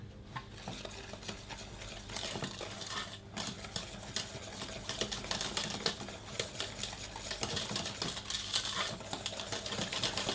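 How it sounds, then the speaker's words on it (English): Cocoa powder, sugar, water and cream are stirred into a paste for a chocolate mousse cake, a steady close-up scraping and tapping of utensil against bowl, continuous and fairly quiet throughout. "all I'm going to do is mix together, so it's cocoa powder in there, the sugar and all the dry stuff"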